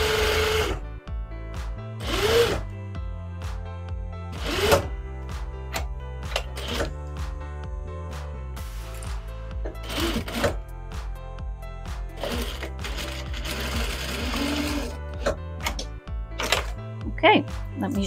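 A sewing machine stitches a mini tote bag in short mechanical runs and stops, with clicks and thumps between bursts, while a person talks intermittently.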